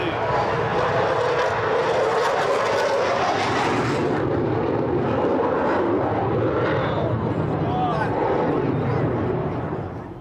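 A Royal Air Force Typhoon jet passes by as a loud, broadband roar that swells and holds steady for several seconds, then slowly tapers; a few voices can be heard faintly beneath the noise.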